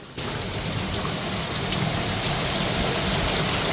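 Heavy rain in Mussoorie starts suddenly and pours down steadily in a dense, even hiss, loud and close throughout, with no voices or other sounds.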